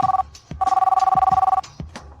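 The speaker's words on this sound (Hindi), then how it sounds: "शू शाओ का फोन। जल्दी उठाओ।" A telephone rings in two long, warbling bursts, the first brief and the second sustained for about a second, loud and close, with soft knocks and movement sounds between and after.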